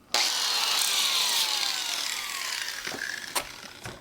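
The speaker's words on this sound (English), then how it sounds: "We sand our tip a bit" Sanding the thin tip of a foam RC plane part, a steady close abrasive rasp lasting several seconds that slowly fades, then two short sharp scrapes near the end.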